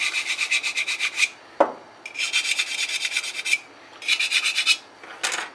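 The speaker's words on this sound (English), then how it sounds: "sometimes we get files out to straighten some stuff out" A metal file rasps across magazine feed lips in repeated strokes, close and loud, in four bursts with short pauses and a sharp knock between the first two; no talking.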